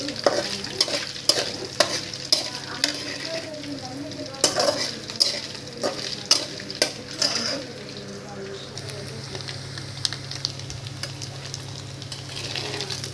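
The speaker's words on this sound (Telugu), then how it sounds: "రొయ్యలు నూనెలో వేసి ముందు వేపేసుకుంటున్నామండి." Prawns frying in oil in a pan, a steady sizzle under repeated sharp clinks and scrapes of a stirring spoon against the pan, with a person talking at times.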